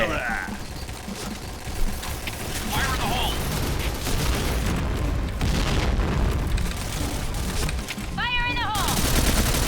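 Gunfire in an online shooting video game, heavy bursts of automatic fire and booming blasts packed tightly together, loud and sustained, with a voice talking over the battle.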